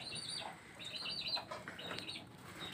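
A male zebra dove (perkutut) with a deformed foot gives soft chirping calls and brief wing flaps, faint and close, over a hissy background with no talk.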